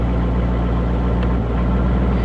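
A tornado-damaged Dodge Scat Pack running with a steady, loud, low exhaust rumble and no clear revs or changes in pitch.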